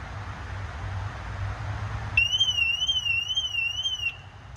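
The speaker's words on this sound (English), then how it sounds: "pressing the alarm button at the bottom and holding will activate the car's alarm" A MINI car alarm set off from the key fob wails in a steady warbling siren tone, starting abruptly about halfway through over a low engine-like rumble and cutting off near the end.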